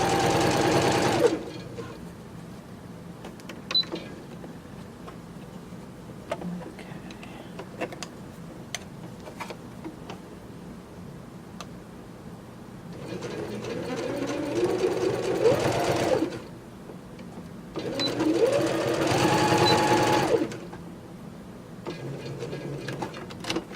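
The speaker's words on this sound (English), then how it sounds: "I'm just sewing right next to the seam" A sewing machine stitches flimsy fabric right beside a seam in a clothing alteration, running in several steady whirring bursts with quiet pauses between, close and clear with no talking.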